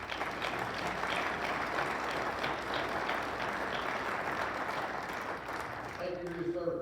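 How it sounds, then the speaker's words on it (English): Sustained applause from a large crowd, steady and dense throughout, fading slightly near the end. "Let's give a round of applause for serving."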